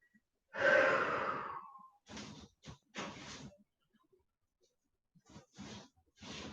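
A long audible exhale like a sigh opens the stretch, then slower soft breaths come in and out at a relaxed pace, close and quiet, during savasana relaxation at the end of a yoga session.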